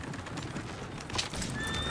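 Horses whinny and clatter in Red Dead Redemption 2, a brief burst of neighing and hooves amid noisy game background with little talk.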